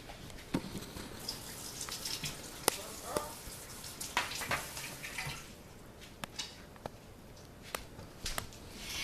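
Running water from a faucet splashes steadily while hands are washed and sanitized in a home kitchen, with drips and small splatters, a continuous wet hiss that fades slightly toward the end.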